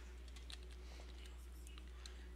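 Computer keyboard typing in the background while playing the horror game Outlast: faint, scattered key clicks over a steady low electrical hum, quiet and somewhat distant.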